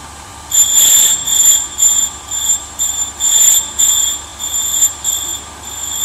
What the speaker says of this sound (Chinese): 修整砂轮平面。